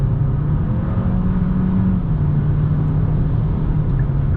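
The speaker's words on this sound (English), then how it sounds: "No complaints with passing power there." A Kia K5 accelerates on the highway to pass a truck, its engine a steady low rumble under constant road and wind noise from inside the cabin, with no talk.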